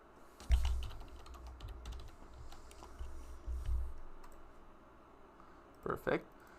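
Computer keyboard typing for an Excel worksheet: a quick burst of close key clicks and short scattered taps under quiet talk.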